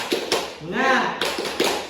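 Rhythmic classroom clapping for a cheer during an elementary-school microteaching lesson on adding fractions: sharp claps in a quick pattern, with a shouted voice between the clap groups.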